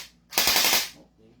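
An M4A1 Commando airsoft gun on rapid fire lets off a short burst lasting about half a second, a close, loud, crackling run of shots that stops abruptly.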